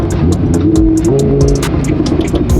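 A Lamborghini Huracan's engine revs loudly and continuously while driving on snowy roads, a steady close-up roar with rising and falling pitch throughout.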